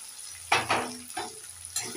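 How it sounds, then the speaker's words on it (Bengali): Tomatoes with turmeric and chili frying in a pan for a pumpkin dish, several short bursts of sizzling and spatula stirring scrapes, close and crisp over a quiet background. "মশলাগুলোকে ভালো করে ভাজবো।"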